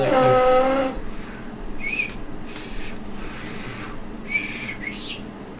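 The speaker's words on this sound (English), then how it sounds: "I try to whistle some tunes while we're walking to keep our spirits up" A person whistles a few short, rising notes during a tabletop roleplaying game session. A brief tonal burst comes first, then scattered quick chirps over a quiet background.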